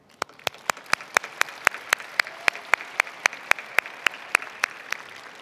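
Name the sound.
audience applause at awards ceremony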